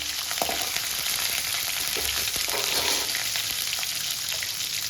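Shallots fry in hot oil in a pan for beetroot poriyal, making a dense, steady sizzle throughout with faint stirring scrapes, close and loud.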